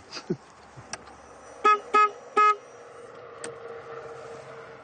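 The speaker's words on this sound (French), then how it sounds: "Je klaxonne." Three short car horn honks in quick succession in California, fairly loud, over a quiet outdoor background with a few faint clicks.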